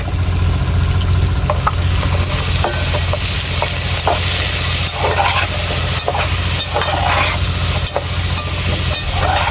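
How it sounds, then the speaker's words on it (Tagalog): Taro meat hits a pan of sautéed garlic-onion aromatics for laing, sizzling and frying loudly and steadily, with repeated scraping and clacking strokes as it is stirred close by and no talking. "Kapag tama na ang pagkagisa ng aromatics, isusunod na kaagad ang ating laman ng taro."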